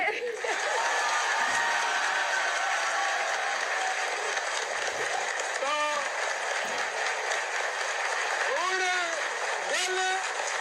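A crowd at a PTI political gathering in Punjab, Pakistan, gives steady, dense applause that holds at an even level throughout, with a few voices calling out over it.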